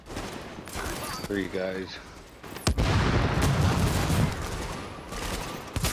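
Gunfire from The Division, a co-op shooter video game, rattles in dense bursts through much of the stretch, with a player's voice speaking briefly over it.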